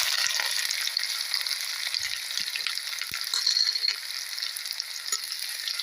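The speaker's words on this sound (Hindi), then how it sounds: "और इस प्याज को हम तब तक इस तेल में भूनेंगे जब तक कि इसकी हल्की सी कलर न चेंज हो।" Chopped onions fry in hot oil in a kadhai for restaurant-style kadhai paneer, giving a steady, dense sizzle that carries on unbroken at close range, with no voices.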